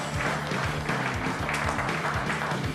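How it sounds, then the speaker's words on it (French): Audience applause at a Télé-Grenoble evening event as a guest is welcomed on stage: a dense, steady wash of many hands clapping throughout, fairly loud and continuous without pause. "Christophe Reville de Télé Grenoble, que vous pouvez applaudir fortement."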